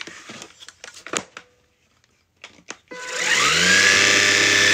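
A lightweight vacuum cleaner clicks and rattles while being handled, then switches on into a loud, steady whine that rises to full speed and holds.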